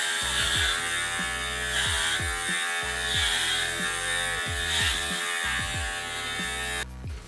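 Electric hair clipper cutting short hair at home, a steady close buzzing hum that wavers in pitch and load as it passes repeatedly through the hair, loud and continuous throughout without speech.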